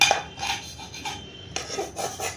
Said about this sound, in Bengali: চাকু নিয়ে নিচ্ছি